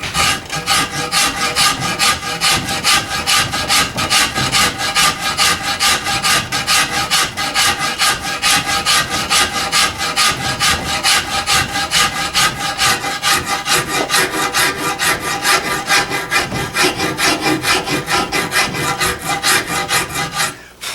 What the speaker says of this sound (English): I'm using more of a scraping method with the rasp as opposed to straight across